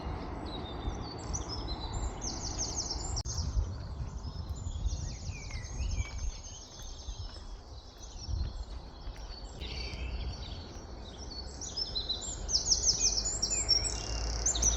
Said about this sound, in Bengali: এত সুন্দর পাখির ডাক শোনা যায়